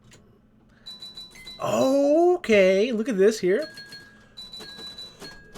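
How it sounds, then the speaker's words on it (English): Electronic chimes and bell tones from the Black & Red virtual pinball table (Inder, VPX), a sparse run of ringing dings and short melodic tones that grows louder in the middle, with someone talking over part of it. "Ooh, it's got some nice sounds. Really nice chimes"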